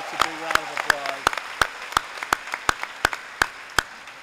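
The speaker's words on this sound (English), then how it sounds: "So let's give those folks a big round of applause." Clapping at a graduation ceremony for guests, family and friends: a steady, evenly spaced run of sharp claps, fairly close, with a voice speaking at the start.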